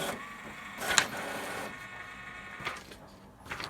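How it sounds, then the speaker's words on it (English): An Epson printer with an automatic document feeder scans and prints a page, giving a steady mechanical whir with a sharp clack near the start and a few fainter clicks later, close and continuous. "So it's going to scan and print."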